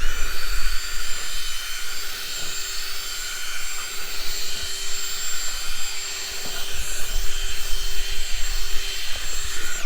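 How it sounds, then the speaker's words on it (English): A steady high-pitched motor whine runs throughout as a power drill spins a scrubbing brush cleaning a car interior, with a constant hum and slight rises in intensity. "Got my drill, got the brush attached."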